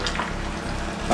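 Pancake batter hits a hot buttered pan with a short, steady sizzle and splash, heard up close and alone.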